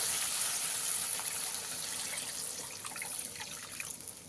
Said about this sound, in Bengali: এবারে আমি এখানে দিয়ে দেবো পরিমাণ মতন জল